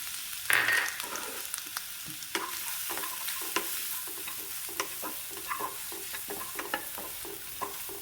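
Grated coconut stirred and frying in coconut oil in a pan, a steady soft sizzle with frequent scraping stir strokes throughout, no talking.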